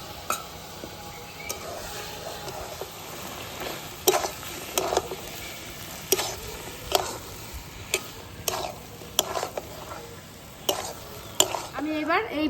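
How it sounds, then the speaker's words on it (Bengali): Fried soybeans being stirred with milk in a pan, a low sizzle under repeated sharp scrapes and taps of a spoon against the pan at irregular intervals, close, no talk. "দিয়ে আমি একটু দুধ দিয়ে সয়াবিনটা নেড়ে চেড়ে মিশিয়ে দেব।"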